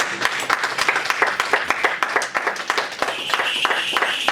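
A church congregation applauds together, dense rhythmic clapping that holds steady throughout, loud and close, with no speech standing out over it.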